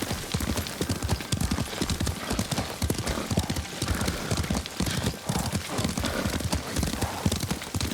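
Horse hooves clopping in a steady riding rhythm in Ghost of Tsushima, close and continuous, with a brief whinny-like sound mixed in.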